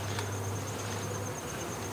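Honey bees hum inside an open hive of some 70,000 bees, a dense, steady drone close by and continuous, with a low tonal buzz beneath a broad hiss.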